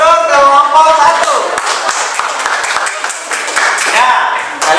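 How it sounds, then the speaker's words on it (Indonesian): In a classroom lesson, pupils clap for a group that has just presented, giving a loud, somewhat ragged burst of clapping mixed with children's voices and chatter. "tepuk tangan untuk kelompok 1"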